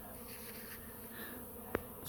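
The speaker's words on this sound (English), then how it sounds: "Look at these bees." Bees buzzing around a hive after a few days of rain, a steady low hum of many insects close by with one sharp tick or knock near the end.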